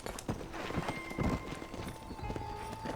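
Hooves clip-clop at a steady trot in Red Dead Redemption, mixed with a horse's whinny and background game sounds, fairly close and moderately loud.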